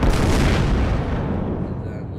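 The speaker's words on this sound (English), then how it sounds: "then let's fire this salvo" A naval gun salvo in the video game Naval 1945, a loud, dense booming roar that fills the whole moment and slowly decays, with no talking over it.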